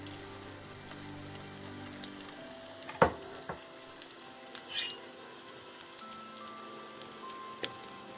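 Pancakes of pork liver sizzle softly in a frying pan, a steady faint crackle broken by a sharp clack near the middle and a brief hiss a little later.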